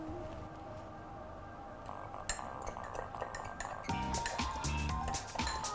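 Barbecue sauce and meat juices from pulled pork are stirred in a dish, producing repeated clinks and scrapes of a utensil against the container with soft liquid sloshing, close and fairly quiet, with no speech.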